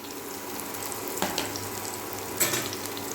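Chopped ginger, garlic and chili fry in a hot pan with a steady close sizzle, broken by two brief louder bursts as the mixture is stirred.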